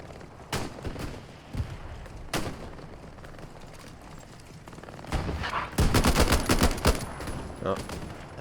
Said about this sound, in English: There's definitely an MG shooting.